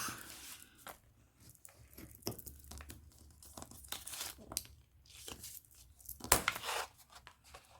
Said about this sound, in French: Les petits ciseaux. On va couper comme ça, hein, on va voir.